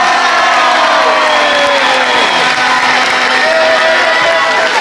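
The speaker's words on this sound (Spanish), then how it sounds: "Un aplauso grande para él." An audience at a tribute event in Leganés cheers and applauds for footballer Dani Carvajal, a loud, dense crowd roar with whoops, sustained at full intensity throughout.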